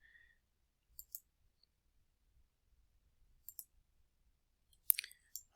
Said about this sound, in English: I'm clicking and it doesn't go